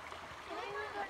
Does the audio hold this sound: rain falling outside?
no